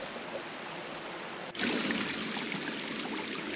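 A mossy stream at Moss Cave, Utah flows with a steady, soft rushing hiss. The sound gets somewhat louder and fuller halfway through, as if heard from closer, and no one speaks.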